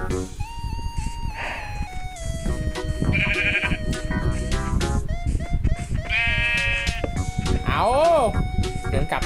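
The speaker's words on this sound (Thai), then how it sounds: "แกะตายแล้วหนึ่งตัว" Sheep in the Minecraft video game bleat several times in short wavering cries, mixed with other game sounds and background music under steady talk from players.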